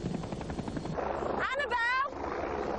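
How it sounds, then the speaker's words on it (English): A helicopter's rotor chops steadily at moderate loudness, and a voice briefly calls out over the engine noise midway. "He's landing! Helicopter's landing."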